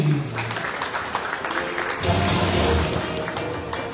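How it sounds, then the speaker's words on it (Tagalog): A crowd claps in sustained, dense applause to welcome a former senator at a good-governance caucus in Cebu City. A voice carries over the clapping throughout, and the applause swells slightly near the middle. "Pinakamalakas na palakpak."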